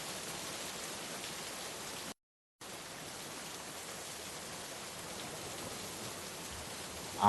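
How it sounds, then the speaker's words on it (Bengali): Steady rain falls in a continuous, even hiss, briefly cutting out once before resuming unchanged. "বাইরে তাকিয়ে দেখলাম বৃষ্টির মাত্রা একই তালে বয়ে চলেছে"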